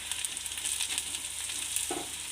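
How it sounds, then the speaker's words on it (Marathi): Onion, garlic, chutney masala, salt and turmeric sizzling and frying in a hot pan, a dense, close crackling hiss with a brief stirring scrape near the end. "हे सगळं चटणी, मीठ, हळद हे चांगलं परतून घ्यायचं"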